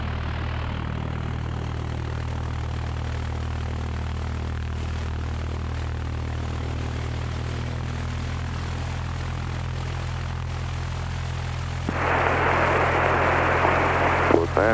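Steady propeller drone of a 1969 Cessna 172 single-engine light aircraft at Los Angeles International Airport, a constant low engine hum throughout with a louder broadband hiss joining near the end.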